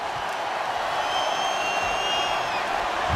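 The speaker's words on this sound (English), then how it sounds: "Here comes the crowd. Here come the Jayhawks." A packed stadium crowd roars steadily for the Kansas Jayhawks during a college football game against Colorado, a loud, dense wash of cheering and shouting that holds without a break, with faint whistling tones drifting over it.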